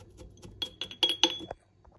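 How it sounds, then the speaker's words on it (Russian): Several light glassy taps and clinks in quick succession, close and fairly quiet, as a small shot glass tamps down biscuit crumbs in a dish for a strawberry jelly dessert. "возьму вот стаканчик, рюмочку и просто утрамбую"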